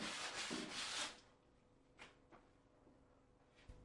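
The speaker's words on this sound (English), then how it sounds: "Now rub the planed edge down with a medium-grade glass paper." A brief burst of gritty rubbing strokes with medium-grade glass paper on a planed wooden door edge, a few quick sanding passes, then quiet with faint scrapes.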